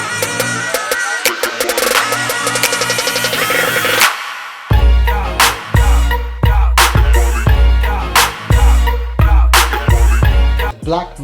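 Official instrumental of the 2017 dance track, a summer dance anthem: a full electronic mix with punchy kick drums and bass, bright synth chords and stabs, a brief drop near four seconds, then a driving beat, loud and continuous with no vocals.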